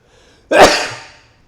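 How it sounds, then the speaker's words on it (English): A single loud, close sneeze bursts out after a quiet inhale, then trails off in a breathy fade. "Wait, I gotta sneeze."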